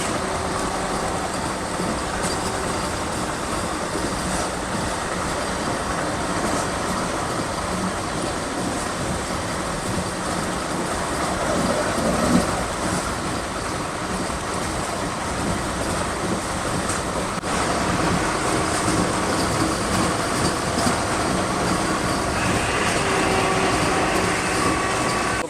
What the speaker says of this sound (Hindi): तो बड़ा जबरदस्त माहौल है वंदे भारत एक्सप्रेस में अभी फिलहाल